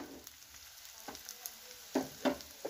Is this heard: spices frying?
yes